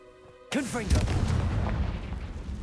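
A Confringo fire spell cast in Hogwarts Legacy bursts in with a sharp, loud blast after half a second of quiet, followed by sweeping whooshing and crackling tails and a sustained rumbling roar.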